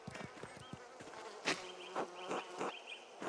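Bees buzz near hives in Pentiment, a medieval-set video game, a faint but clear insect drone with pulses of wingbeat tone drifting in and out, no talk over it.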